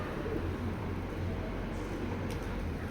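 Racing pigeons in a loft give soft, low cooing, a continuous murmur under steady background noise.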